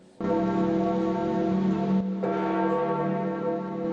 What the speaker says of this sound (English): As bells tolled